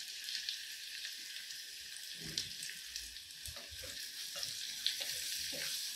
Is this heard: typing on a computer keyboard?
no